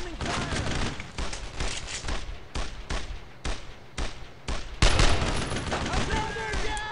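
Dense bursts of gunfire from the World War II video game Brothers In Arms: Road To Hill 30, rapid overlapping rifle and machine-gun shots with a heavier blast near the end, loud and continuous throughout.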